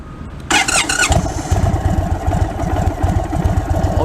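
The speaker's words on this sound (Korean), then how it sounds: "그럼 한번 시동 한번 걸어 볼게요." An Indian Sport Chief cruiser motorcycle with the 116 cubic inch Thunderstroke V-twin engine is started up close: a brief cranking burst, then the engine catches and settles into a loud, lumpy, throbbing idle.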